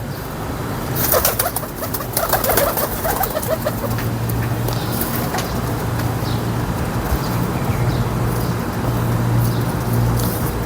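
Sialkoti pigeons in a home loft coo and shuffle through a steady low rumble of outdoor ambience, with a few wing flaps and faint background noise; no voices are heard.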